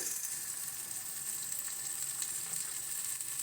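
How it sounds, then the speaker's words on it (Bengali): Ground spice paste with turmeric, salt and chili sautés in a pan, a steady, bright hiss of frying at moderate volume with faint stirring scrapes, no talking. "শুকনো লঙ্কা গুঁড়ো, সমস্ত কিছু দিয়ে ভালো করে মশলাটাকে কষিয়ে নেব।"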